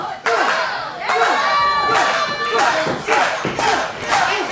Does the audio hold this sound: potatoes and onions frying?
no